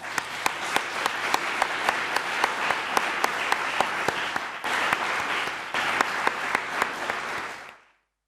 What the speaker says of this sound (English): I would like to give thank you and applause to the Student Council and Alma.